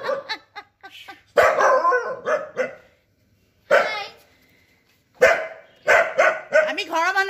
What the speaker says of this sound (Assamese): কুকুৰ